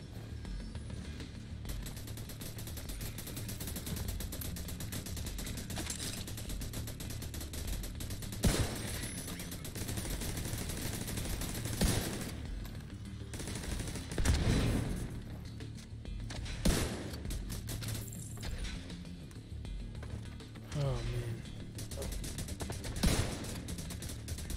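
Video game gunfire comes as a dense, continuous stream of muffled shots and bursts under a constant noisy background, with sharper louder cracks standing out now and then.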